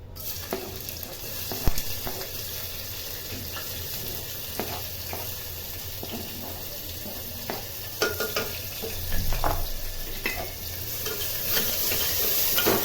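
Finely chopped onion frying in hot oil inside a pressure cooker on a gas stove, a constant close sizzle with scattered scrapes and clinks of stirring, no voices.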